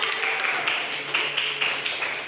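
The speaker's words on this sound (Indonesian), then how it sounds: "Beri tepuk tangan untuk kelompok." A classroom group applauds with steady, close hand clapping that carries on evenly for a couple of seconds.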